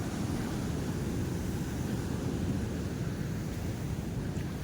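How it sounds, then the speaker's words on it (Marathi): Seawater and waves crash along the Konkan shore during fishing, a loud, steady rushing roar with wind buffeting the microphone and no voices heard. "पाण्याचा आवाज एवढा आहे की तुम्हाला माझा साऊंड ऐकू येणार नाही"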